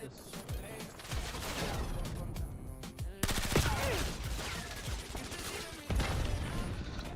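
Ricochet-round gunfire in Call of Duty, a dense, continuous rattle of automatic shots and impacts with sharper bursts and crashes breaking through, loud and busy throughout with faint voices mixed into the din.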